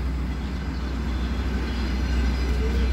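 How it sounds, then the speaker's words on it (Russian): A red train rumbling by nearby, a steady low roar with rattling wheels on track, continuous and fairly loud. "Ай, какой поезд."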